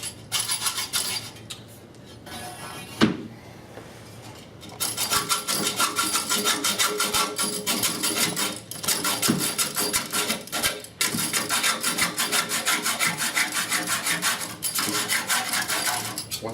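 A hacksaw cuts through metal pipe in steady back-and-forth rasping strokes, close and clear, with a brief pause and a clank partway through before the sawing resumes.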